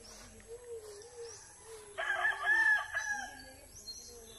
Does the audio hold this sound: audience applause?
no